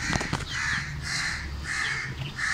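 Several crows caw repeatedly and loudly up close in a rhythmic series of harsh calls over faint background noise.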